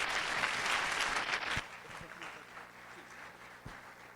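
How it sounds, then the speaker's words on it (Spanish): Audience applause at the end of a veterinary conference talk, loud clapping for about a second and a half that then drops to a faint murmur with a few scattered claps. "Le damos un fuerte aplauso."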